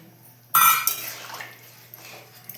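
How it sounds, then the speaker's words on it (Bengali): Water from three-year-old tamarind is tipped into a pot of Birbhum-style vegetarian sour curry, a sudden splash that quickly fades into quieter trickles and small drips. "ওই তেঁতুল যেটা গুলেছিলাম ওই জলটা দিয়ে দেবো"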